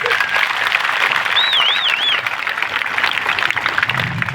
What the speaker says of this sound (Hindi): एक बार धर्मपाल की जोरदार ताली बजाओ।